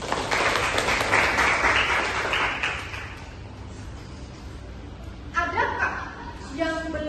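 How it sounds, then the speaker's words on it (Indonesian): Applause in a classroom after a lesson on the circulatory system, a burst of clapping from students that fades after a few seconds, followed by faint laughter and voices. "beri tepuk tangan"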